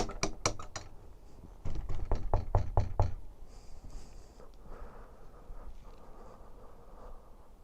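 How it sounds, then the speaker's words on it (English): A biker knocks on a door: a quick run of about five sharp raps, a pause, then another rapid burst of around seven knocks, followed by quiet shuffling and faint rustle. "Biker knocked at the door"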